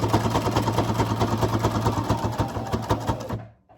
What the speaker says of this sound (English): you're just going to sew back to the point of beginning